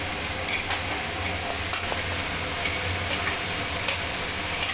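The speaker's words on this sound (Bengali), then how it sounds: "এবার আমি কাঁচা ছোলাটা দিয়ে দেবো" Raw chickpeas added to a hot pan and stirred while cooking banana flower with coconut, a constant sizzle with occasional light scraping clicks from the stirring, close and steady, with no talking.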